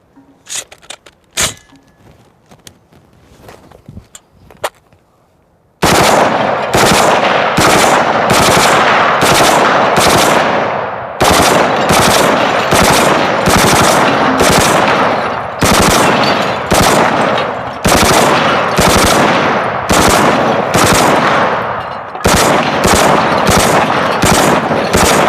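A CMMG Mutant machine gun firing full auto from a drum magazine, with a few scattered clicks and single sounds first, then long, loud, close sustained bursts of rapid fire separated by short pauses.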